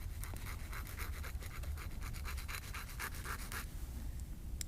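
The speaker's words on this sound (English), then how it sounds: "you're gonna scrape it on here" A rusty fishing hook is scraped by hand along the rough side of a sharpening file, a rapid series of faint, gritty rasping strokes in quick rhythm, close up and quiet, with no talking.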